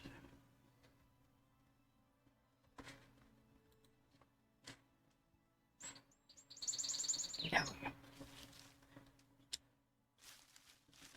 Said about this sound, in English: we have one cardinal that sits across the way and he just sings a hell of a song